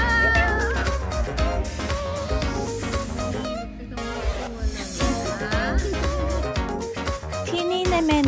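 Cats meow repeatedly amid a busy, cluttered background of noise and music-like sounds at a Bangkok restaurant cafe with live music, the calls rising and falling, moderately loud.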